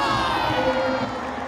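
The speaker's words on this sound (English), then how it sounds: "the entire crowd at the Lal Bhai Contractor Cricket Stadium is up and applauding the knock of Solomon Mire" Large crowd at the Lal Bhai Contractor Cricket Stadium cheering and applauding after a batting knock, a loud, steady roar of voices with a faint announcer voice over it.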